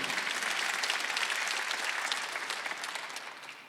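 Congregation clapping together in a church during a Sunday worship service, a dense, steady burst of applause that holds for several seconds and slowly tapers off, with no voices over it.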